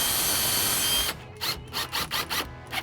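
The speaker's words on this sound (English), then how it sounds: "So now we can go ahead and just put the rest of the screws in the entire frame." A power drill drives screws into the wooden frame of a storm door, a hiss giving way to several short whirring bursts in quick succession, close and clear.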